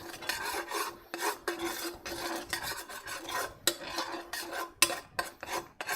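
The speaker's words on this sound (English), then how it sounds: "Give this a stir." A utensil stirs cream sauce in a pan with nutmeg, close scraping and rubbing strokes in an uneven rhythm, each a few seconds long, with no talking.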